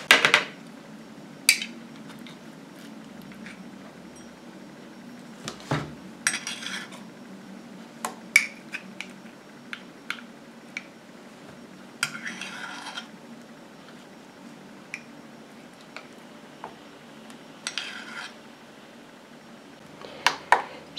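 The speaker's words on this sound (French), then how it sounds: "Je vais commencer par mettre 20 g d'huile de coco." A spoon scraping and clinking against a small container and bain-marie while coconut oil is scooped in, sparse quiet metallic taps and rubbing scrapes spaced out over a hushed background.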